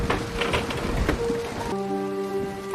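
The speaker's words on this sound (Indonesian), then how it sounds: "hujan yang tiba-tiba turun membasahi bumi" Rain falling, a dense, steady patter heard up close throughout, joined midway by a sustained tonal hum layered over the downpour.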